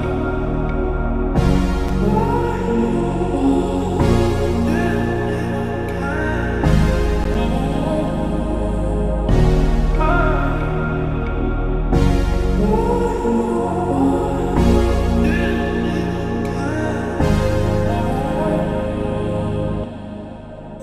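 A full modern zouk, kizomba and afrobeats production built in Logic Pro X plays with a steady groove, deep bass, percussion hits and layered synths at a full, even level, without voices.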